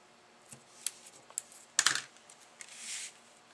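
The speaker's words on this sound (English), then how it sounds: "let's go ahead and add some tape to the back of here. And I'm going to just use the Tombow for that" A Tombow tape runner lays adhesive onto the back of a handmade Christmas card. There are quiet clicks and taps, then a cluster of sharper crackles and a soft rasping swipe near the end.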